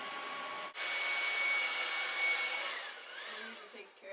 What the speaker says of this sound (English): What I do when I have too much fallout is I take my blow dryer.